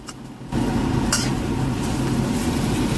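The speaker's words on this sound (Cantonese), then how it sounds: "見到啲豬肉略為變色，我哋就揾鑊鏟將佢快炒一陣" Sliced pork shank stir-fried in a wok with a spatula, a sudden rise into a steady dense sizzle with a brief metallic scrape of the spatula, close and without talk.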